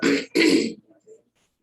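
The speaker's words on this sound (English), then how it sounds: "You clear your throat." Two harsh throat-clearing bursts in quick succession, close and loud, followed by a couple of faint soft mouth sounds.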